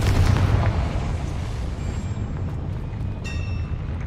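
The Confringo blast spell in Hogwarts Legacy bursts as a loud, deep explosion that rolls on as a sustained booming rumble, with a faint bright ring near the end.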